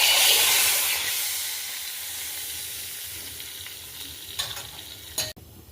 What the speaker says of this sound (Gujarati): હવે વઘાર થઈ જાય એટલે હિંગ ચપટી એડ કરી અને આપણે વઘારને ઓસામણમાં એડ કરશું